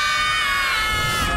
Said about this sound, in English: Group scream, anyone?